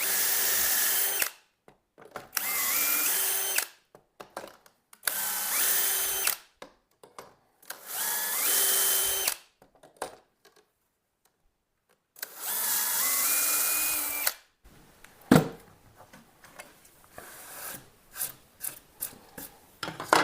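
A power drill runs in repeated bursts of a few seconds each, drilling through steel, whining as it bites and slows, separated by pauses, followed by scattered clicks and knocks.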